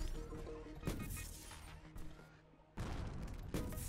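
Fiery explosions burst in The Riftbreaker (Metal Terror expansion) during brutal hardcore play, a run of loud blasts and crashes layered over a steady game soundtrack, with sharp impacts near the start and end.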